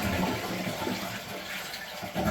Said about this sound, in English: first thing we're going to do is flush the water that's in here